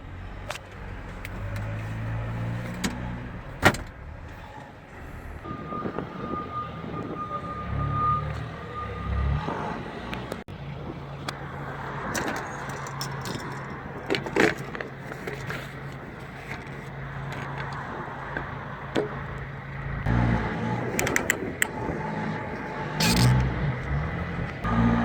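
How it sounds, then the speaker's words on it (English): MAN TGS 26.440 truck reversing, a steady reversing beep sounding for several seconds over the diesel engine's low rumble, followed by idling and scattered knocks and clatter nearby. "I've just backed the truck in"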